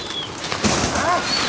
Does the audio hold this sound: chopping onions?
no